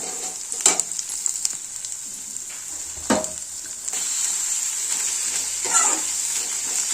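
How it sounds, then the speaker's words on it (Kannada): Chopped vegetables and sprouted beans frying in a hot pan, a steady close sizzle with a few sharp stirring scrapes and clatters, no speech. "ಈಗ ತರಕಾರಿ ಪ್ಲಸ್ ಇಟ್ಕಿದ ಕಾಳು ಇಷ್ಟನ್ನು ಹಾಕೊಳ್ಳೋಣ."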